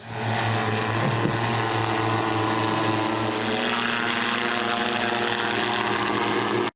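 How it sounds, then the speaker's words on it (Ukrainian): A military drone with propellers that carries parcel loads and flies at night makes a steady, loud, close propeller drone that holds constant throughout with no pauses. "Як і кажани у природному середовищі, цей дрон також працює уночі."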